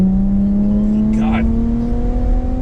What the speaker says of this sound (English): I cannot wait to show you guys how this thing sounds with the blow-off valves.